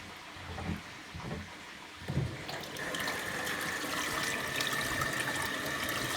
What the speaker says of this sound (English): I have to wash my hands off.